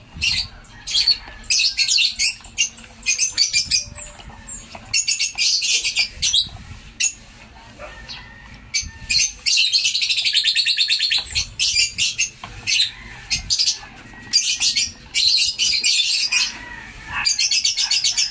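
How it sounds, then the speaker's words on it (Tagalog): Many birds chirp and call continuously, dense high tweets and squawks overlapping in bursts, close and loud with no talking. "Sarap ng mga tunog ng ibon natin yung mga huni nila."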